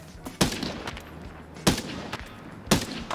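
Gunfire in a first-person shooter video game, with three loud, sharp shots spaced about a second apart, each ringing out briefly over a low background.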